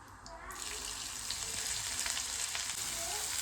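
Chopped onion for paneer masala is dropped into a pan and fries with a loud, close, continuous sizzle that swells right after it goes in and then stays steady.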